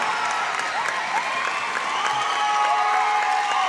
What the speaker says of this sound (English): Round of applause at the sellout gymnasium